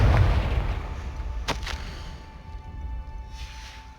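The Confringo fire spell explodes in the video game Hogwarts Legacy: a deep rumbling boom opens the clip, a sharp crack follows about one and a half seconds in, and a low roar fades out after it.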